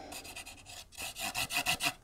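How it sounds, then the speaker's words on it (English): Plastic diamond painting drills are poured into a large Archer's Arts drill tray, making a quick series of close, dry rattling bursts with no speech. "I'll pour some drills into here, and we will see what it looks like"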